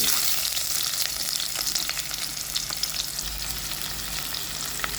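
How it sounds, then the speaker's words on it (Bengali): Chopped onions and cumin seeds fry in hot oil for a soybean kosha, giving a steady close sizzle with scattered crackles and no talk. "অয়েলটা গরম হয়ে আসতে আমি কিছু কেমিনস ঢেলে নিলাম উপর থেকে রাফলি কাটা যে পেঁয়াজগুলো আছে তা ঢেলে নেব"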